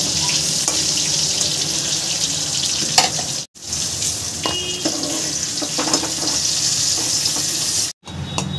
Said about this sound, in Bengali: एबार आमी এই তেলেই आलूगुलो भेजे नेब